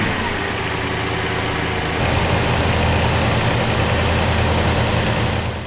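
A Range Rover engine, Overfinch-modified, idles steadily and fairly loud after a cleaning, a constant low rumble that grows slightly fuller partway through.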